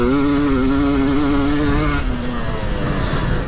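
Husqvarna TE300 dirt bike engine on slippery, greasy terrain, loud and close, holding a steady wavering drone before the throttle drops off and it coasts at a lower note.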